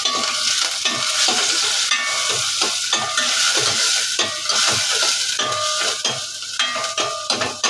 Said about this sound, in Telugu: పచ్చిమిర్చి, అయితే ఇలా తిప్పుకుందాం.